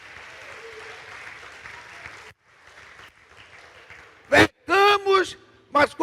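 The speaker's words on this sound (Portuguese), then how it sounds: "Vamos agradecer com a salva de palmas." A church congregation applauds for about two seconds, a soft, even wash of clapping that fades, followed by quieter room sound and short bursts of a voice.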